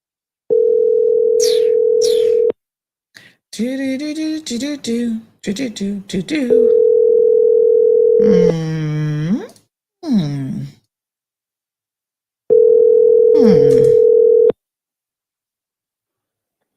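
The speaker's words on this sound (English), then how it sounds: "Let's make a phone call this morning." A telephone dial tone sounds loud and steady while a phone call is being placed, in three long stretches of a couple of seconds each, separated by someone talking and muttering.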